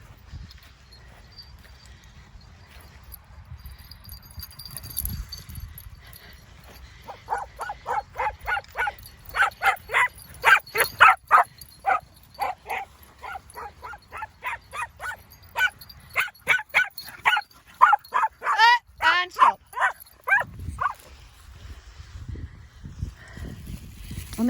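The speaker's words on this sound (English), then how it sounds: "I've got one that barks." Several dogs barking in quick, loud bursts from close by, with occasional yips and whimpers mixed in. The barking builds after a quieter start and runs on for most of the stretch, while a voice speaks faintly in the background.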